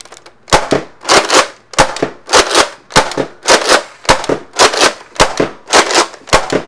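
A Nerf Rival Atlas blaster fires about ten loud, sharp pops in a steady rhythm, each followed by a short burst of air and mechanism noise, close and with no talk.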